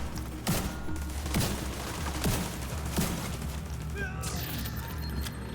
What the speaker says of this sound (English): I fire my shotgun from miles away.